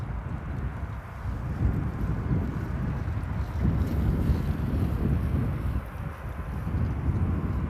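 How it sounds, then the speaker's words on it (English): Gusty wind buffets the microphone at Amsterdam Airport on a rainy day, a steady rushing roar that swells and eases across the whole stretch, with no voices. "the wind is picking up here at Amsterdam"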